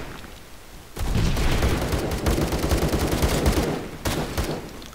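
Machine gun firing in the Roblox game Phantom Forces, loud rapid bursts of automatic fire that break out suddenly, run for about three seconds, pause briefly and then resume.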